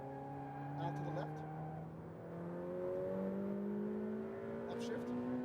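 A Ferrari F8 Tributo engine roars steadily at full throttle on a track, its pitch climbing, dipping briefly at an upshift, then rising again at full power.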